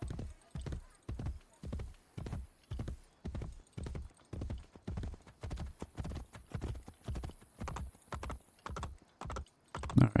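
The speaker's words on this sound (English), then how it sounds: "Why run when you can ride a horse?" Rhythmic hoofbeats of a horse in the video game Assassin's Creed Brotherhood gallop at a steady pace, close and clear, with a brief whinny near the end.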